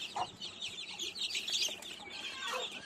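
A crowd of young chicks, about 45 to 50 kept for sale, chirp in a dense, continuous chorus of high, overlapping peeps, close by and with no talking.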